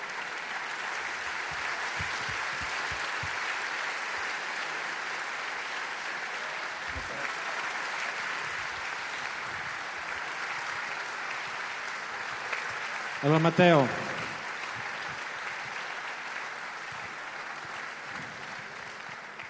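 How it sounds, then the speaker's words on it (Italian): A large crowd at a Lega Nord party celebration in Padova's Pala Geox arena applauds warmly and continuously, a steady rolling clap lasting the whole time, with a brief spoken voice and one short sharp sound partway through. "facciamone veramente un caldissimo applauso"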